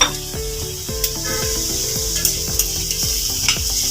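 Vegetables for a veg momo filling sizzle in a hot pan at home while a spoon stirs them in steady, repeated scraping strokes, clear and close with no talk.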